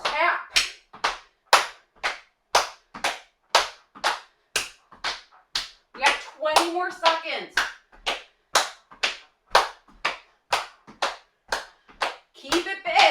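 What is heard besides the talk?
hand clapping during a workout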